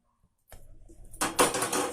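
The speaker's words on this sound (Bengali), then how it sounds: "এবার এটা অন্য পাত্রে আমি ঢেলে দিলাম।" Chop posto, a vegetarian poppy-seed dish, is tipped from one pot into another, first as a soft scraping slide and then as a louder rush of metal scraping against metal.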